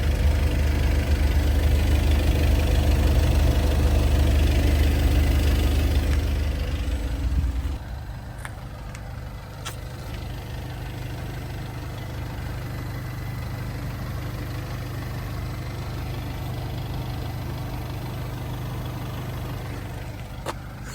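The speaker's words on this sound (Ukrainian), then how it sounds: "Машина прогрілась, патрубки не дують, працює мотор добре, маховика не чути." A warmed-up VW Passat B8 2.0 diesel engine idles steadily and close by for the whole stretch, with a low rumble that drops in pitch and settles partway through.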